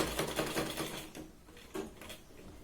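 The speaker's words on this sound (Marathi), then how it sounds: "परत या पॉईंटपासून आपण याच पद्धतीने पट्टी फोल्ड करून सरळ शिलाई लावून घ्यायची." A sewing machine stitches a folded strip on a Punjabi top in a short, close burst of rapid mechanical needle clatter that eases off after about a second, then briefly picks up again.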